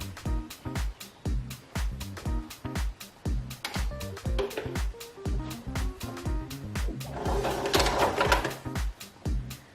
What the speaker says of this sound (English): You need to do your twin needle stitching from the right side